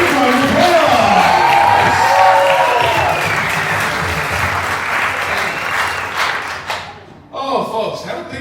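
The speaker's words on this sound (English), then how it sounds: "Give Jessica, give Aria, give her an applause." Loud audience applause with cheering and whoops at a comedy mentalist show, a voice talking over the start, the ovation fading before a brief burst of speech near the end.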